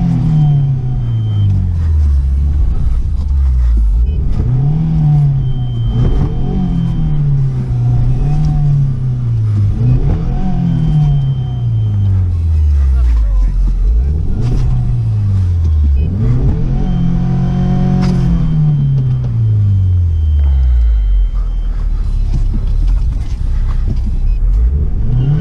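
A 2019 UAZ Patriot SUV crawls over rough off-road terrain, its engine repeatedly revving up and dropping back in loud, uneven surges over about 25 seconds, heard close from inside the vehicle.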